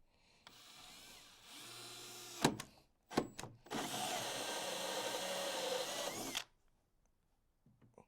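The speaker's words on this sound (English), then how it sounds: "you're going to just take your hole saw and step it across to cut this section out" A power drill with a hole saw cuts into the molded plastic of a J&J Echo recirculating portable toilet. It comes as a short burst, a couple of quick blips, then one long grinding cut, loud and close, before falling quiet.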